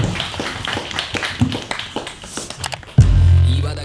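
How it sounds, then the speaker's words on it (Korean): A small audience at a live art-and-talk event gives scattered, light applause, close and uneven, before music abruptly starts. "수고해주신 팬디파다님께 박수 부탁드립니다."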